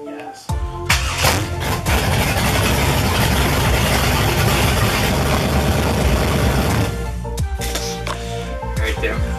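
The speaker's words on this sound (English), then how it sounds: "So he's gonna start it one more time, bleed that sucker out" A supercharged LT1 V8 engine in a Buick Roadmaster rumbles loudly at a steady idle for several seconds, then cuts off, followed by a few clicks and clatter nearby.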